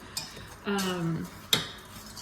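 A utensil stirs a melting butter mixture in a pot over high heat, making a few separate metallic clinks and scrapes, close and fairly quiet, with a longer scraping stroke in the middle and a sharp knock near the end.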